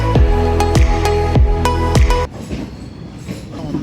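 A late-running passenger train pulls into a station, loud rhythmic clacks of wheels over rail joints repeating every half second, then the heavy rumble drops away into a quieter hiss of the platform.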